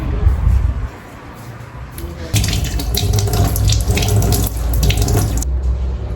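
Tap water runs into a sink while a face is washed at home for skincare, a close splashing rush that dips briefly then surges back, with hands splashing through the stream.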